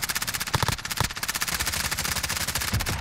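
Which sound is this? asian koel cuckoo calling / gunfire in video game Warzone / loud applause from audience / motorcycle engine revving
gunfire in video game Warzone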